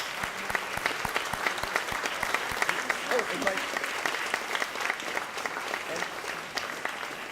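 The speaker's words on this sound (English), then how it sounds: "please stand so we can give you a round of applause" Audience applause for Hall of Fame inductees at an alumni achievement awards ceremony, a steady round of clapping from a full room, with a brief voice speaking over it.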